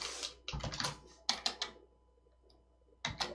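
Fingers type on a computer keyboard in short bursts of fast, crisp key clicks separated by brief quiet pauses, close and fairly soft.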